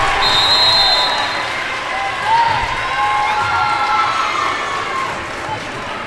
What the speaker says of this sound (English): You can feel the crowd getting into it here in Sperling Gymnasium. The Tiger supporters are on their feet.